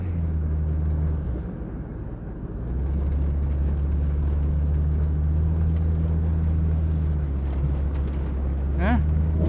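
A 1996 Jeep Cherokee XJ with a freshly installed 3-inch Rough Country lift drives down the road, its steady low engine drone and road rumble continuous throughout, dipping briefly before picking back up.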